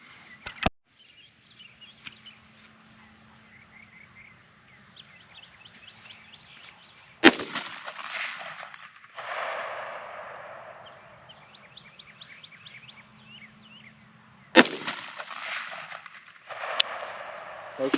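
.50 Beowulf rifle shots fired at a Tannerite target outdoors: three sharp loud cracks spaced several seconds apart, each followed by a brief rumbling echo, with faint background ambience between.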